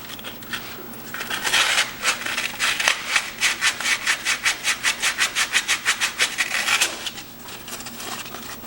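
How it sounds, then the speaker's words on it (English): Ignition points on a 1972 Gravely 430 tractor are sanded to remove corrosion, a rapid run of close, steady back-and-forth scraping strokes that grows quicker and more regular before stopping. "Sanding them down a little bit will help get whatever corrosion might be on them off"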